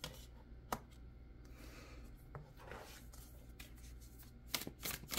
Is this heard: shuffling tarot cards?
yes